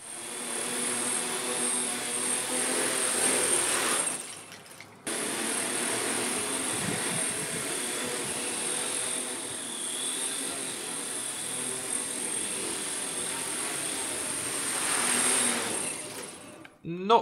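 A homemade model V-22 Osprey tiltrotor flies with a steady buzzing whir of its motors and propellers, rising and falling slightly as it moves, with a short dropout partway through.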